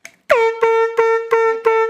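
Air horn sound effect blaring in five loud, evenly spaced honks with a rich harmonic tone, standing alone without speech.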